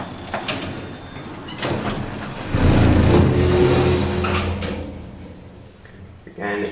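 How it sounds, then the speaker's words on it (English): Lift doors at Gatwick Airport sliding along their track with a rumbling mechanical slide and thud over steady lift hum, while a voice speaks in the car. "Doors opening."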